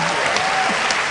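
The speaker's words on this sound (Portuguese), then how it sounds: "Palmas para a Melissa, gente" Audience in a hall bursts into brief clapping, a dense burst of applause lasting about a second.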